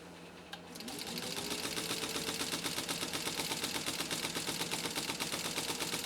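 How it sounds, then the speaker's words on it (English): A 1953 Singer 15-91 sewing machine stitching steadily after a brief quiet start, its rapid, even mechanical clatter running close and continuous to the end. "Let's sew this down one more time."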